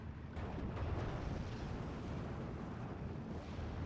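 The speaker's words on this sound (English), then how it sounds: "Hurricane coming in for the bombing strike and strafing run onto the M4A1" A Hurricane fighter-bomber's bombing strike in the Steel Division 2 war game, a steady low rumbling blast roar that stays loud and dense throughout, with no talking.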